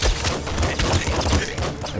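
Dense, continuous gunfire from enemies led by Big Bandit in the video game Nuclear Throne, with rapid overlapping shots and booming impacts filling the whole stretch at a loud, steady level.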